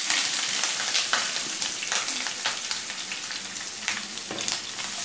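Onions frying in oil with minced keema meat, a loud, continuous sizzle broken by repeated stirring scrapes, heard close with no talking.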